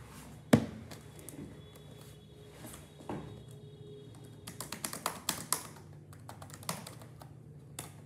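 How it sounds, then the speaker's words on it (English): A loud computer keyboard clatters in a quiet room, with one sharp knock, then scattered bursts of rapid, close key taps. "You see the keyboard racket making an awful racketing sound? Yeah, that's what I'm typing."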